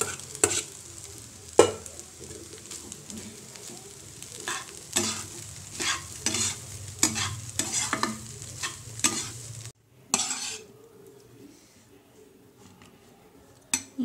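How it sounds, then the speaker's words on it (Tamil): Cooked rice and egg stirred together in a pan over a low flame, with steady scraping and clattering strokes over a soft sizzle that stops abruptly near the end, leaving a faint quiet tail. "இந்த மாதிரி நல்லா சிம்மலையை வச்சு நல்லா கிண்டி முட்டையும் சாப்பாடு ஒன்றா படுற மாதிரி நல்லா பிரட்டிட்டு"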